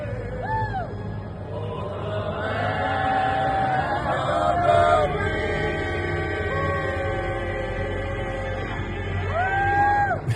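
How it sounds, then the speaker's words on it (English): A large crowd waiting outside AmeriFest sings the national anthem together, drawn-out sung tones rising and falling in unison under a broad murmur of voices. "they're singing the national anthem as they wait for the doors to open at AmeriFest"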